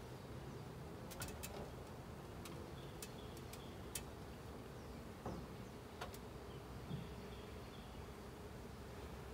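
A honeybee swarm clusters on a frame of brood, producing a steady, close droning hum punctuated by scattered sharp clicks and ticks, with no talking.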